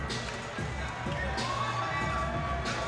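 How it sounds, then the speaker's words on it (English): A boxing crowd in the Broad Street Ballroom applauding and cheering after a fight, a fairly distant, reverberant swell of clapping and shouts under a steady room hum. "And Eddie Martinez gets a well-deserved ovation from this Broad Street Ballroom crowd after an incredible display."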